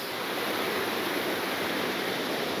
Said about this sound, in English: look at the creek right behind me